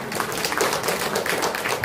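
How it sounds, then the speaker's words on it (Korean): A seated audience claps together at a Korean commemorative seminar for a 200th rally, a dense, continuous patter of many hands at close range with no voices on top. "박수 한번 주세요."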